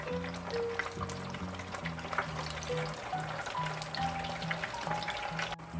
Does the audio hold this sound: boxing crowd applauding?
no